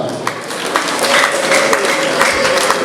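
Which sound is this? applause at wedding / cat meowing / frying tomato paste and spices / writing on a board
applause at wedding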